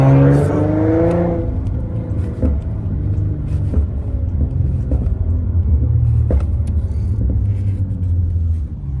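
A car engine rumbles at idle and revs lightly to around 3,000 RPM, with sharp little pops and crackles from the exhaust scattered throughout.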